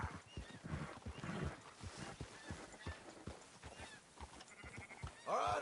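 Sheep bleat in Red Dead Redemption 2 amid clopping hooves and shuffling movement, several overlapping calls at moderate distance, the last bleat louder and nearer at the end.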